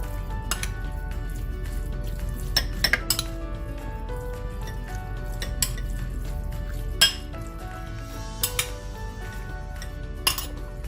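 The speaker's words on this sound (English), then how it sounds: "So I have a spoon here. Let's go ahead and mix this up" A spoon mixes beef marinade with chili sauce in a bowl, making repeated light clinks and taps against the dish over a low background hum, with no talking.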